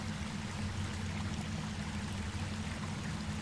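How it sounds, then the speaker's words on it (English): Steady rushing water of a waterfall in the video game The Fabled Woods, a continuous broadband wash with a low rumble, even and unbroken, heard alone without voices. "We love a waterfall here on the channel."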